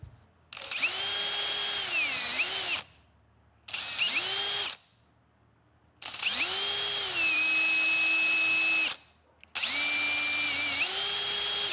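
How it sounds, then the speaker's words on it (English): A power drill spins a bit through the metal side panel of a Ford Transit van, in four long, steady whining bursts separated by brief silences, with the pitch dipping as the bit bites. "And just let the drill bit cut"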